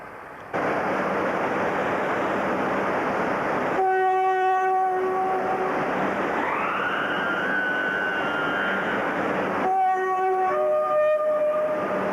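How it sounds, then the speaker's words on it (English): A diesel locomotive, engine number 47380, rumbles steadily nearby, its two-tone horn sounding in long sustained blasts, rising in pitch midway, with no talking. "This locomotive, engine number 47380, named Immingham, is ferrying Bert, Boyd and children in the driver's cab"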